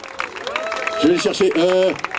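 Scattered audience applause for the Petit Bonhomme team at an evening show, moderately loud, with a voice speaking over the clapping.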